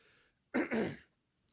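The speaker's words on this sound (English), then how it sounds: "every single time I clear my throat" One quick, rough throat clearing in two short pushes, close by and otherwise quiet.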